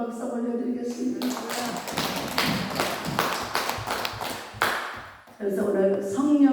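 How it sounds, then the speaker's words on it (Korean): A church congregation applauds during a worship service, a burst of many hands clapping for several seconds between stretches of a preacher speaking and music. "우리 하나님께 영광 박수 올려드리겠습니다"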